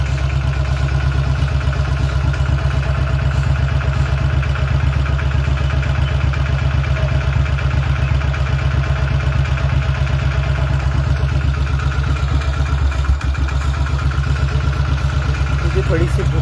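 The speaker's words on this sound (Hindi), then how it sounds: "इधर बाइक को मेरी चालू रख के चलने दो, बाइक स्टार्ट रहने दो" An old Royal Enfield Bullet motorcycle idles close by, its low, even thump and mechanical clatter running steadily throughout with no change in pace.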